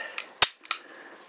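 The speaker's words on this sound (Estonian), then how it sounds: "Laskumisel kostuv heli on täpselt sama kõva nagu päris püstolil." An Ekol Magnum Firat starter pistol fires outdoors in nature, two sharp cracks with a fainter click before, close and loud, each ending quickly.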